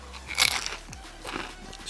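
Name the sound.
chewing and eating food, crunchy bite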